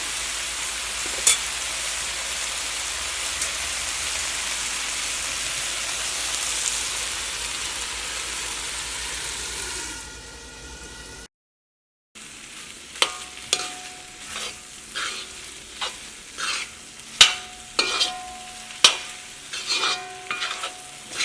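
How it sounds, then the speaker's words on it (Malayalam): Chicken roast, Kerala style, frying in a large pan, first a dense loud sizzle like rain, then after a short silence quieter bubbling with sharp clicks and taps of stirring. "ചിക്കനൊന്ന് വെന്ത് വരട്ടെ"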